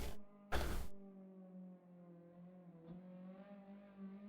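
A race car engine on the Daytona road course in a racing video game drones steadily with harmonic tones from a distance, after two short bursts of louder noise at the start; no talking.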